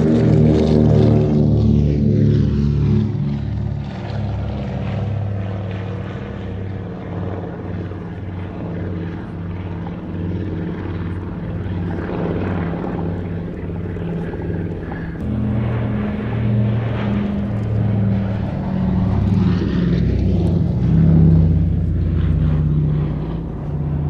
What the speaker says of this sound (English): we see it here in amphibious guise, getting airborne, the Consolidated